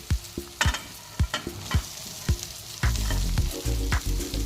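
Potatoes go into a pan of frying masala for batata vada filling and are stirred in: sporadic spatula scrapes over a low sizzle, which swells into a louder, steady frying hiss halfway through.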